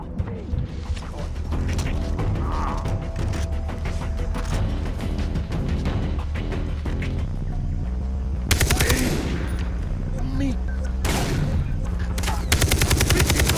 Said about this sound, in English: he is shooting through walls